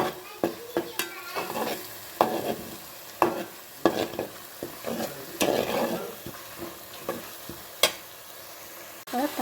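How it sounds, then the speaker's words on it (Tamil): Tomato masala for chicken gravy sautéing in a pan, with a steady sizzle under repeated scraping and clinking as a spoon stirs it against the pan, close and without talk. "தக்காளியும் பச்சை வாசனை போகிற அளவுக்கு நல்லா வதக்கிறோம்."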